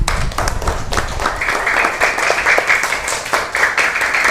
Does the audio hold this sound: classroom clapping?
yes